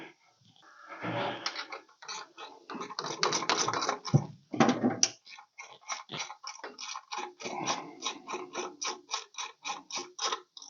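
Ratcheting wrench tightening a pulley on a 1956 Ford F-100 engine during a supercharger install, a close, rapid run of regular clicks that comes in uneven bursts, with some brief sounds mixed in at the start.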